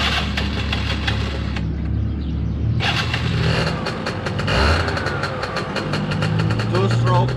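Two-stroke motorbike being kicked over after sitting for three months, sputtering then catching and running with a rough, buzzy idle and a few blips of revving, close by, with a voice speaking over it.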